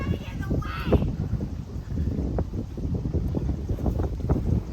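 Steady wind at a beach buffets the microphone with low rumbling gusts, a constant roar broken by brief louder puffs.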